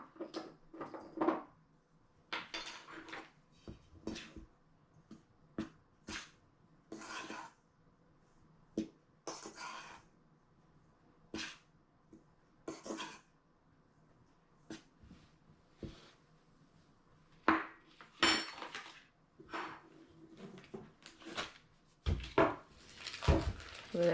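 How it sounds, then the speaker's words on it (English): Light, intermittent clinks and knocks of a utensil against a bowl as flour and salt are tossed together for a pumpkin pie crust. The taps come in quiet, irregular bursts with near silence between them. "the first thing I'm going to do with the flour is just add a bit of salt, and then I'll toss that together"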